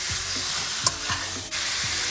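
Meat for pork in guava sauce sears in a pan over high heat, a steady broadband sizzle running throughout with a few soft scrapes of stirring, close and fairly loud, no voices.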